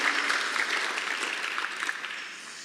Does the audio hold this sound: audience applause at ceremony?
yes